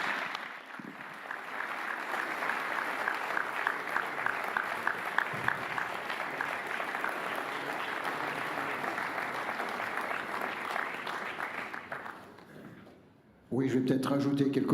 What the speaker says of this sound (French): je vous propose de l'applaudir pendant que je lui remets le trophée